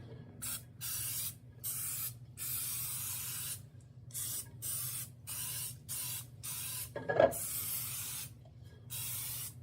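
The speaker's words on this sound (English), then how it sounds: "So, I'm going to spray here." Short hissing bursts of cooking spray sprayed into a bundt cake pan, repeated in quick irregular pulses over several seconds, close by, with a brief clunk partway through.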